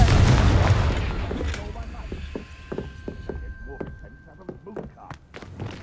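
A Confringo fire spell blast in Hogwarts Legacy, a heavy booming burst at the start that rumbles and decays, followed by scattered sharp crackling impacts and rattling debris, with faint voice sounds in the background.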